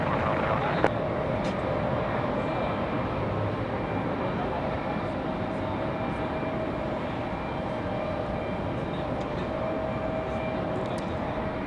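Steady, broad roar of a Southwest airliner flying in strong winds near Raleigh-Durham airport, constant and fairly loud throughout with a brief click near the start.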